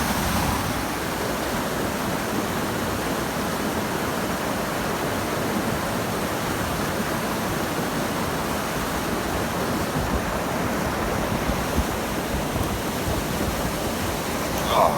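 Gold-rich clay and gravel gets swirled in water in a Mine Lab pan, making a constant, dense watery rushing and sloshing that goes on without a break.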